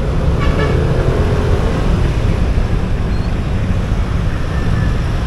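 Steady roar of road traffic on Commonwealth Avenue, a very wide multi-lane city avenue, with dense broadband engine and tire noise, loud and continuous throughout, plus a faint horn toot near the start.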